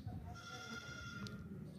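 A goat with kids at a livestock sale gives a sustained, wavering bleat, fairly near, over a noisy low background of rumble and indistinct voices.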